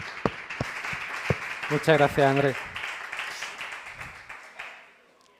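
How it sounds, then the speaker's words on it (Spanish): An audience applauds before a talk on submarine cables, a crisp clapping patter that carries under a speaker's voice, then thins and fades out toward the end. "así que démosle un fuerte aplauso"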